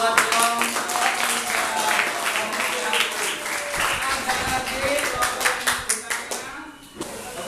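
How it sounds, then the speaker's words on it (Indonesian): A classroom group of students claps for a presenting group during a school teaching session, a dense run of hand claps lasting several seconds with some voices mixed in, thinning out near the end. "Oke, tepuk tangan buat kelompok"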